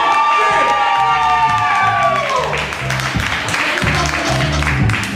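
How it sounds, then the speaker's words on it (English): Live audience at a poetry night cheering, whooping and applauding for the host, loud and dense crowd noise with clapping throughout, a sustained shout fading early on. "I need y'all to make a lot of noise. Give it up for our host"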